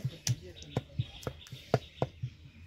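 Boiled, softened tomatoes are pressed with a wooden masher, giving a steady series of soft knocking thuds with sharper taps, close by. No one speaks.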